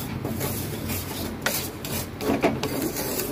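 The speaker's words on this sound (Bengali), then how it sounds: "150 সুজি আছে, আমি সুজিটাকে ভেজে নেব। একদম বারে বারে নাড়তে হবে যাতে লাল না হয়ে যায় সুজিটা আমার" Dry semolina is stirred in a pan while roasting, giving soft repeated scraping and rasping strokes with a few sharper scuffs, close and steady.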